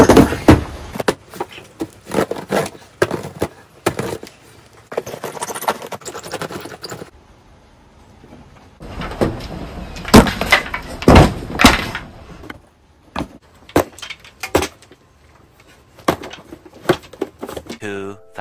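A giant axe chops into a cardboard package box, landing repeated loud, sharp thuds in uneven bursts, with voices talking around the blows.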